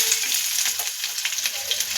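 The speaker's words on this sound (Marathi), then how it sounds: "तेल आपलं गरम झालेलं आहे। आता आपण त्यामध्ये बारीक चिरलेला कांदा टाकू।" Finely chopped onion sizzles in hot oil in a kadhai, a dense, steady hiss with fine crackles and occasional sharper spits, close and uninterrupted by any voice for a couple of seconds.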